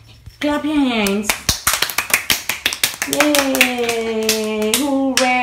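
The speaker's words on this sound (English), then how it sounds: "Clap your hands." Hand clapping at a child's sixth birthday celebration, about a dozen sharp, evenly spaced claps keeping time while voices sing and chant over and around them, close and fairly loud.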